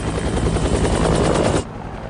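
A helicopter in the 2001 film The Last Castle, a loud, dense rotor and engine roar with rapid chopping pulses that holds steady, then drops off sharply near the end.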